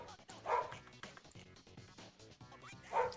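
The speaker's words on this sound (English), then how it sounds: "I'm gonna close my window so you guys don't have to hear this dog." A dog barks outside a window, with repeated yips and barks at a moderate distance, two louder bursts standing out over a steady indoor background.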